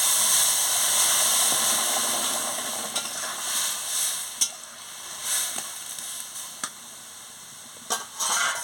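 Dal and vegetables dropped into a hot pan, hissing in a steady sizzle with occasional sharp scrapes and knocks of stirring, fairly loud and close, no talking.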